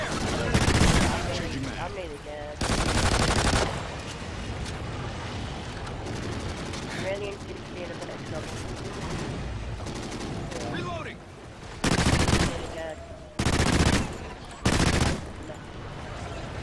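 Gunfire in the alien shooter game NightFall, loud sustained bursts of automatic shots erupting several times and separated by quieter stretches where a player talks over the game sound.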